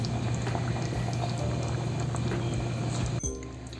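Fish curry gravy for a Madras-style king fish curry bubbles vigorously in a pan, a dense, continuous close boil that cuts off abruptly near the end.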